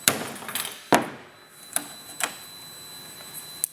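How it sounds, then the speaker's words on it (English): Hammer blows on a powder-coated metal part testing the finish, a handful of sharp separate metallic strikes spaced irregularly, with ringing decay between hits and no talking. "we'll hit that thing with a hammer or something so you can see how durable it is"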